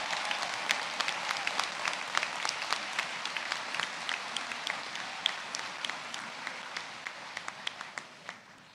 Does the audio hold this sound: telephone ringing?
no